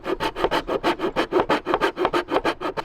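Hand saw rips through wood in a steady back-and-forth rhythm of about fifteen close, loud strokes, no voices.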